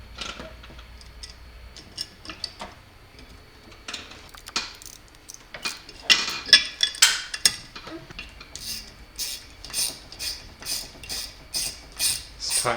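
A nylon nut is tightened onto a bolt while assembling an explosion-proof motion sensor, giving a run of close, quick clicks and ratcheting ticks that grow denser and more rhythmic toward the end.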